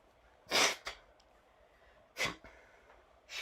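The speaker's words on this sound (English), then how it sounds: "you get to hear this wonderful sound of me blowing my nose" Someone blows a blocked nose close by, with two loud forceful bursts each followed by a short sniff, then the start of a third.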